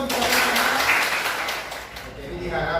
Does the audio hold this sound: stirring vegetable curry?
no